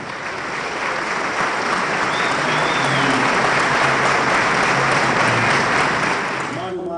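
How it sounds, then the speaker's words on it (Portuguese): An audience at a Brazilian sports awards ceremony claps in tribute, a dense, loud, sustained round of applause that holds steady for about seven seconds before tapering slightly at the end. "eu queria pedir a todos uma salva de palmas"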